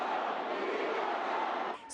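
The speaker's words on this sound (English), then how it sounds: "Protesters carrying signs and shouting insults." A large crowd of protesters at a Chicago Trump rally shouting together in a dense, steady roar of overlapping voices, loud and close, briefly dipping at the end.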